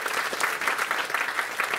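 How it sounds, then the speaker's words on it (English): Audience applause at a Cook Islands performance at the Polynesian Cultural Center, a steady dense patter of many hands clapping at moderate volume, sustained evenly for a couple of seconds with no voices over it. "How about a round of applause for Tiko in this great endeavor?"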